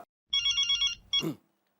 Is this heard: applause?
no